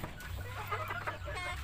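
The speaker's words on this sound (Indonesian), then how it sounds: "Dan ini ayam yang kemarin itu sudah menetas." Chickens clucking in a backyard coop with newly hatched chicks, a soft, busy cluster of short overlapping clucks and calls over a low hum, fairly faint and close.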